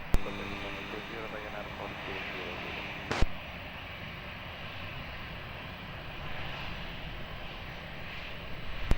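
An airplane takes off from runway 20 at Lisbon Airport, a steady broad engine roar held throughout with one brief sharp spike near the middle; faint radio voices from the tower may sit under the noise.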